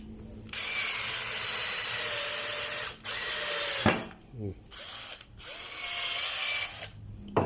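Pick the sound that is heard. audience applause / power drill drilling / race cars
power drill drilling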